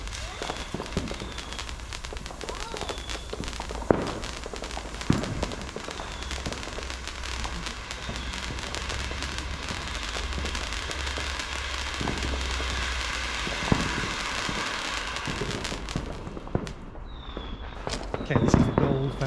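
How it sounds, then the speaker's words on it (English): Diamond Fireworks colourful selection box being fired outdoors, a steady crackling hiss throughout with several sharp bangs and a louder burst of pops near the end. "So this is the colourful firework selection box from Diamond Fireworks."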